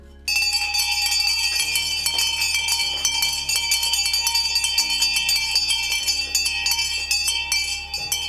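A hand bell is rung rapidly and continuously at a stock exchange opening bell ceremony, loud, bright metallic clanging that carries on for several seconds with no talk over it.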